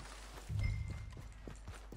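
Hooves of a horse in Red Dead Redemption 2 strike the ground a few times in quick succession, a soft, low, muffled thudding that rises briefly and then fades, quiet and close.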